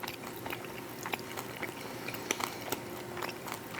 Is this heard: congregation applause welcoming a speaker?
no